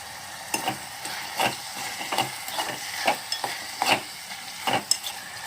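Cashew nuts frying in oil with tomatoes in a pan for a phool makhana curry, a soft steady sizzle broken by repeated scraping stirs of a spoon, moderately close and with no talk.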